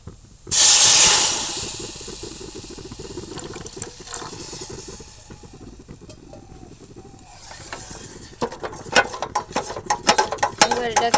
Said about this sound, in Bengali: দেখো বাটারটার সঙ্গে ময়দাটা ভাজা হয়ে গেছে এবার দিয়ে দেবো দুধ